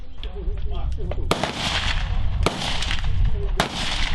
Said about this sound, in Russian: Ведет огонь одиночными выстрелами по мишеням, которые поднимаются в окошко.